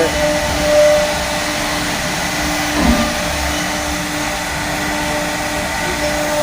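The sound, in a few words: CNC machines running in a workshop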